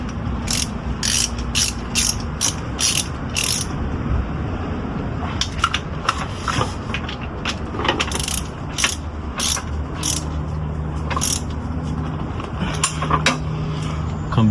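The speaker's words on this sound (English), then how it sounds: "Just tighten up the main bolts just a little more." Ratchet tightening transmission bolts on a Honda CRX, loud close rapid clicking in repeated bursts with brief pauses and some metallic clanks between.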